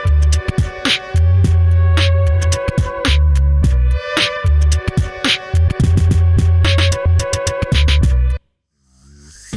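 Two layered loop-station effects, panned left and right, pulse in a dense, rhythmic pattern of repeating tones and beats that stops abruptly near the end, leaving a brief fade.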